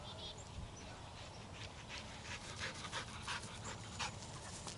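A retriever dog pants rapidly and steadily nearby after bringing back a training bumper, the breathing continuing throughout, with light outdoor noise around it and some faint bird-like sounds.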